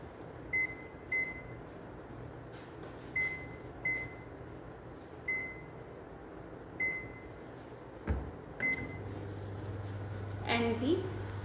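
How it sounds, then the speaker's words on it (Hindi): A microwave oven's steady low hum runs throughout, punctuated by a series of short electronic beeps as buttons are pressed, followed by a louder hum and a sharp click. "सो अब हम इसे डालते हैं माइक्रोवेव में।"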